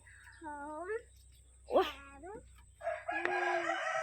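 Chickens cluck and squawk nearby in short rising calls, with a voice or two mixed in over a low background hum.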